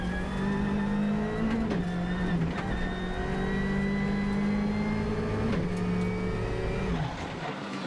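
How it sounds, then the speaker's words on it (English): A Ford Fiesta rally car drives hard on a rally stage in Belgium, its engine loud and close, revving steadily through gear changes with rising and falling pitch, no talk over it. "we drive with the number 1 car, Hans Wes Jr. in the Ford Fiesta."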